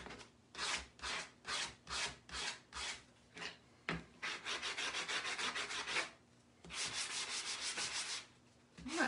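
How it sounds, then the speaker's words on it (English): Rhythmic back-and-forth strokes of a sanding block rasping on a surface, first in short regular passes, then in longer continuous scrubbing bursts. "I got these sanding blocks."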